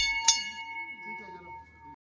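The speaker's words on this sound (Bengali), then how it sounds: "ঘন্টাটা বাজিয়ে মন্দিরের ভেতরে ঢুকলাম প্রণাম করে।" A temple bell rung once at the entrance of a Buddhist temple in Darjeeling, a bright metallic strike with a long, steady ringing tone that slowly fades, while a voice talks softly underneath.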